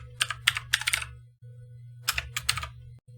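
Close computer keyboard typing while entering code in RStudio: two quick bursts of sharp key clicks separated by a short pause, over a steady low hum.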